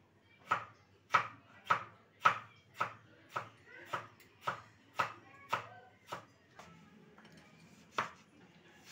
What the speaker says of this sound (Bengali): টমেটোটা কুচি করে নেব।